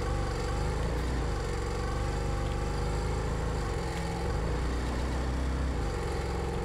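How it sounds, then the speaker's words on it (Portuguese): A V8 car engine in a car mechanic video game holds a steady, throaty drone with a low rumble throughout, close and continuous, with no talking. "olha o ronco desse V8, mano"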